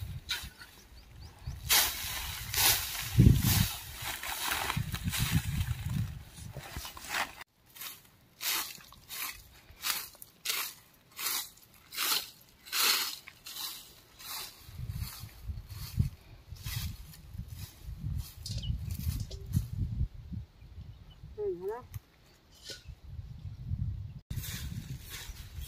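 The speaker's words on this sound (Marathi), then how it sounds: "आगीचा आवाज बघू शकता." A burning rice field crackles and pops in irregular bursts, with soft hissing and snapping from the flames, a faint hum in places and a brief whistle-like tone near the end.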